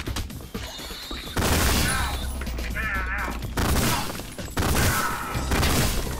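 Rapid gunfire bursts from weapons in the Ion Fury first-person shooter, loud and repeated in clusters with crashing impacts, filling most of the stretch with a brief lull in between.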